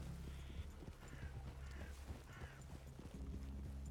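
Horse hooves clip-clop in Red Dead Redemption 2, a steady trotting rhythm under a low droning game ambience, with faint game voices in the mix.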